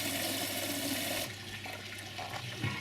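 Water rushes steadily as it drains from a koi pond filter drum, a loud, close, continuous gush that eases slightly partway through but keeps flowing, with no talking.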